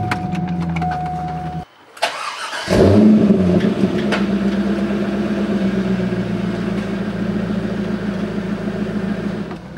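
C5 Corvette engine heard from inside the car on a test drive: a steady idle, a brief dropout, then a louder revving surge that settles into a constant drone.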